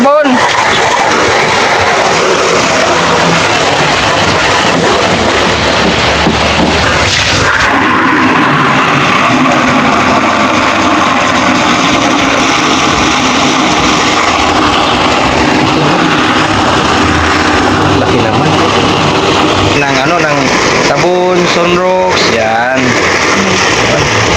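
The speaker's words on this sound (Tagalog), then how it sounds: "Pasok mo dito yung sasakyan, kaya dito." A car is driven in, its engine rumbling loudly and close, with a tire squeal or skid partway through, while people talk over the noise.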